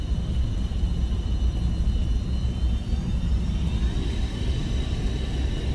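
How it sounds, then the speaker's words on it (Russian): Reconnaissance aircraft in the video game Bright Memory Infinite, a loud, steady rumbling engine drone with a faint high whine that holds throughout. "опасайся разведывательных самолетов"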